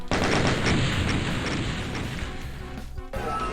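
Chain of exploding barrels and gunfire in the 1993 game Doom, a dense, loud burst of blasts and shots that rumbles on and tapers off after a few seconds.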